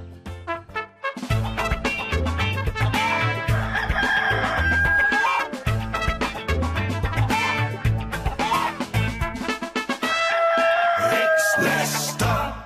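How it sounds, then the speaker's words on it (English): A cartoon cockerel on a farm crows a wake-up call over a dense, busy musical backing, the crow rising through repeated phrases rather than standing alone. "And here comes the wake-up call from Lester the Cockerel."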